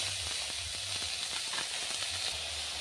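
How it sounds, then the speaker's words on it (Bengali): Cabbage fries lightly in a pan with a continuous loud hiss and sizzle, broken by a low intermittent hum underneath. "আমি বাঁধাকপিটা একটু হালকা করে তার গন্ধটা মরা অবধি একটু ভেজে নেব।"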